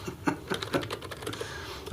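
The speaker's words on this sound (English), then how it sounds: "This is really weird typing on a keyboard that's not mine." Keystrokes on an unfamiliar computer keyboard tap out in an uneven, fairly quick run of clicks, close and moderately loud, with no voices over them.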